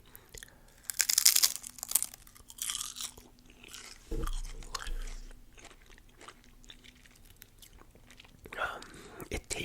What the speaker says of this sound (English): It is crunchy, but it's so thin that there's barely a crunch.